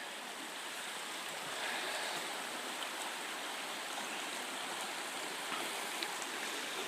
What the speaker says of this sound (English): This turn in the river is too much for it, so the river goes over it.